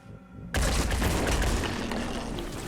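After a brief quiet lead-in, a sudden loud burst of gunfire erupts in Phoenix Point and rolls on as a dense, sustained volley with booming low end.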